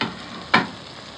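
Chicken curry frying in a pan gives a steady, close sizzle, broken midway by one brief louder scrape or stir before the hiss settles again.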